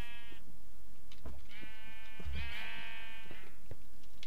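Minecraft sheep bleat in a video game, several wavering calls in quick succession with a longer bleat in the middle, clear and close with light game sounds around them.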